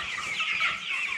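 Chickens at feeders cluck and chatter as a dense, continuous flock murmur, close and moderately quiet, with no voices.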